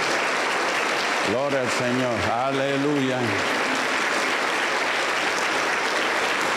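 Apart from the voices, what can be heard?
applause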